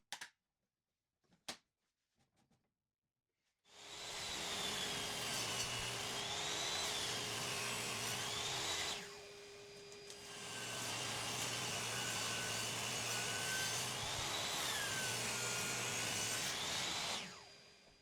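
A planer machines 2x4 boards in two long, loud passes of steady high whine and roar, each lasting several seconds with a brief dip between, preceded by a few sharp clicks and knocks.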